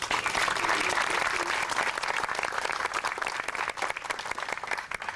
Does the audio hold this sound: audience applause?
yes